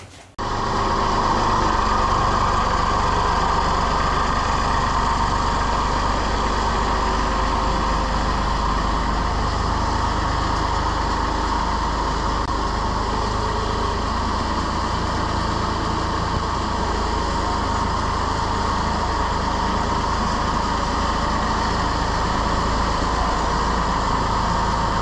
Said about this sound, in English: Let me start the tractor now